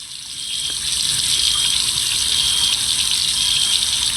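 Water tap running steadily inside a ghost-hunting video game, a continuous even hiss of flowing water that starts softly and holds loud and unbroken throughout, with no talking over it.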